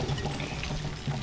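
Soaked dried fish drains water into a container, making a faint, steady trickle and splash for a brief moment.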